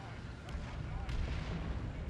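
Manticore rocket artillery strike in Dawn of War 2: Retribution, a dense rumbling barrage of booming explosions that fills the scene, with faint voice underneath.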